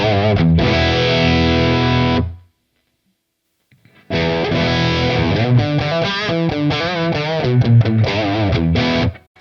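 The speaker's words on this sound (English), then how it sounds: "even if you want some great distorted tones, I could come over here, keep my preamp gain all the way up, my master maybe around 2 or 3." Heavily distorted electric guitar played through a cranked Marshall Studio Classic amp with preamp gain maxed and master low, loud sustained chords ring out, cut off for a couple of seconds of silence, then return with busier riffing and held notes.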